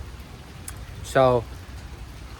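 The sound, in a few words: pouring rain outside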